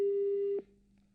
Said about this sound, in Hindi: तो फोन कट हो गया है।